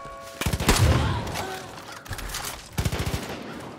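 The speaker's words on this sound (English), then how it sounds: "Oh man, they're shooting back." Enemies shooting back in Far Cry New Dawn produce close, loud bursts of rapid automatic gunfire, several quick volleys with short gaps between them.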